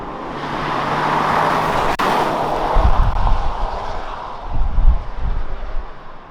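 Genesis G80 cruising at speed on a highway, a steady broad rush of road and wind noise with a low rumble swelling in places and one brief click.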